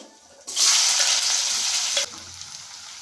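Onions, cumin seeds and curry leaves hit hot oil for a bitter gourd pulusu, bursting into a loud, close sizzle that holds for about a second and a half before dropping to a quieter fry.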